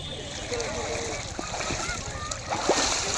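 Water splashing in the Ganges river as someone dips in during a Kali Puja holy bath, irregular close splashes and sloshing under steady background noise, with voices talking throughout.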